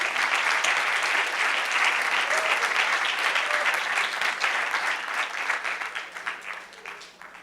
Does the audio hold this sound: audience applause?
yes